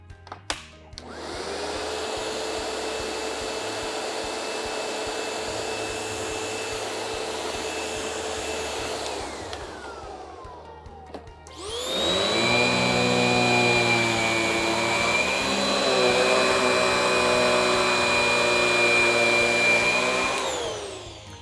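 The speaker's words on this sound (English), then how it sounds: "Tandem Air vacuum cleaners have some of the best agitation you can get in a vacuum cleaner" A Riccar Tandem Air vacuum cleaner agitates a rug sprinkled with pink sand: a loud steady motor roar that winds down around nine seconds, then restarts with a stronger, higher whine and runs on, close and alone.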